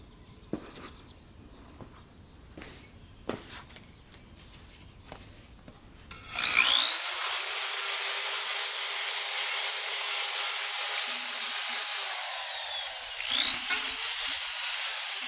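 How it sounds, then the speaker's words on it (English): Wire brushing the exhaust pipe of a Yamaha YSR 50 motorcycle: after a few faint knocks and taps, a loud continuous scratchy hissing rasp runs for about nine seconds with a brief break near the end. "let's wire brush the pipe here so then we can paint it."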